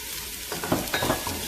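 Onions, garlic and green peppers fry in a pan over medium heat, a steady sizzle joined by louder clattering stirs partway through.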